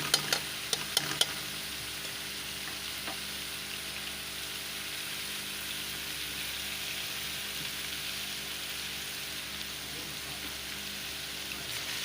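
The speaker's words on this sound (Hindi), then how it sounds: "ये मैंने ऑयल में लहसुन अदरक का पेस्ट शामिल कर दिया है। ये फ्राई हो रहा है।" Garlic ginger paste frying in oil gives a steady, close hiss of sizzling, with a few sharp stirring clicks at the start and then a continuous even crackle alone.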